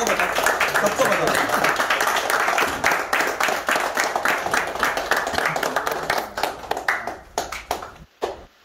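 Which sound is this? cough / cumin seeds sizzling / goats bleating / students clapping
students clapping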